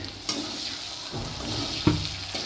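Chow mein noodles being stirred in a frying pan give a soft, steady sizzle with a few scraping knocks of the utensil against the pan.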